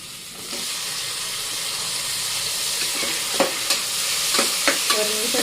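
Tomatoes fry in a pan for mutton gravy, a constant sizzling hiss close up with several sharp scrapes and clinks from the stirring spoon.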